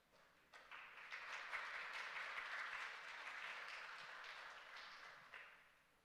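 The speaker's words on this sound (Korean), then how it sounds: "함께 박수해 주시기 바랍니다" A church congregation at a Sunday morning worship service applauds two members honored for ten years of service, a dense, steady patter of many hands swelling in and continuing evenly before tapering off.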